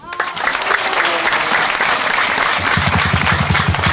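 A congregation bursts into sustained, close and loud clapping during a church service, the dense applause continuing throughout while a voice speaks over it near the end.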